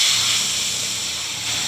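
Split pea lentils go into a hot pan of fried onion and garlic, producing a strong, continuous close-up hiss of steam and sizzling that holds steady throughout the moment.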